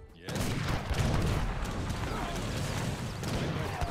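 Musket volleys crackle in dense, overlapping bursts across a battle in Age of Empires III Definitive Edition, War Chiefs campaign at Yorktown, a sustained loud roar of fire with a voice talking over it.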